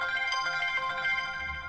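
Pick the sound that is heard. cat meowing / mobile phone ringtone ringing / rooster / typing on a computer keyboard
mobile phone ringtone ringing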